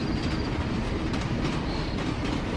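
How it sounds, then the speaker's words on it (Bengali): Cartoon sound effect of a train pulling away from a station, a dense continuous rumble of rolling wheels with faint clickety-clack and a thin high squeal, loud and steady throughout. "ট্রেনটা ছেড়ে দিল"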